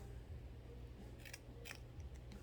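Two quick snips of scissors cut through ribbon for a handmade card, crisp and close, against a quiet low hum.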